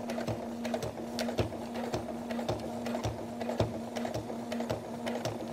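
A sewing machine runs steadily as it stitches a zipper into fabric, a close, continuous whirring hum broken by rapid rhythmic needle clicks, with no one talking.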